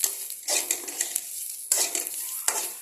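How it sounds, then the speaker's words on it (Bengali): Onions frying in a pan for chana dal, stirred with a utensil: bursts of bright sizzling with scraping strokes against the pan, close and fairly loud, in about three surges. "পেঁয়াজটাকে একটু লালচে করে ফ্রাই করবো"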